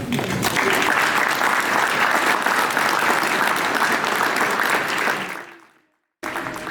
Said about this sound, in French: je vous propose de nous applaudir tous parce que nous le méritons bien